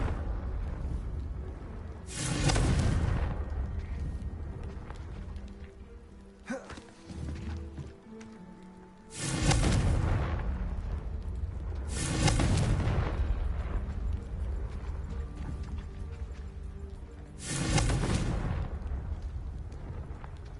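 Confringo fire-spell blasts in the Hogwarts Legacy video game, four deep booming explosions spaced several seconds apart, each swelling loudly and then rumbling away under a low background.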